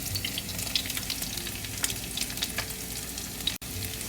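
Spicy tuna fried rice with a spoonful of chili sizzles and crackles steadily in a very hot pan, with a dense continuous frying hiss and occasional small pops throughout.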